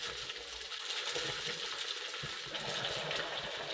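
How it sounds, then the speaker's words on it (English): Raw chicken in acid inside a beaker fizzes and bubbles vigorously, a steady hissing, crackling effervescence heard up close with no voices. "Almost immediately, it started bubbling, and the reaction slowly got more and more violent."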